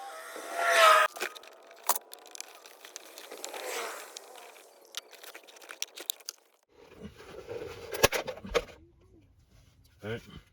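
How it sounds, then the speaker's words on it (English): Keys jangle and clatter while a 7th-generation Nissan Maxima is unlocked: a loud rattle at the start, then scattered light clicks and handling noises, close by and fairly quiet. "I gotta unlock the car first."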